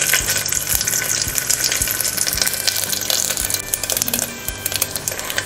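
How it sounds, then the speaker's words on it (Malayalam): Mustard seeds popping in hot oil with coconut for a duck mappas curry, an intense crackling sizzle with sharp irregular pops, close and continuous, with no talking. "ഇപ്പം കടുക് പൊട്ടി"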